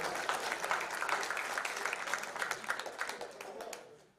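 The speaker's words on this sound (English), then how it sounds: "Y'all clap it up for him." A crowd gives a youth football player a round of applause at a 14U national championship media day, dense clapping sustained for about four seconds before tapering off; fairly faint and a little distant.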